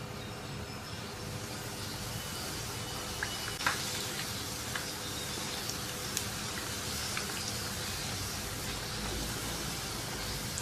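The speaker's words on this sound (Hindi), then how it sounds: "ऑयल भी गर्म हो चुका है। अब इसको फ्राई कर लेते हैं।" Puris sizzle and crackle in hot oil as they deep-fry for aloo sabzi and puri, a steady dense hiss like rain with occasional louder pops, close and continuous.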